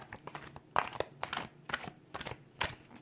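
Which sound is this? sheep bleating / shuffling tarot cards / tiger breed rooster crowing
shuffling tarot cards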